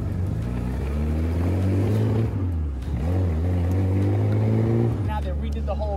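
A vintage car drives onto the Monaco Formula 1 street circuit, its engine a steady low drone with a brief dip and rise in pitch as it shifts or slows, running continuously beneath someone talking.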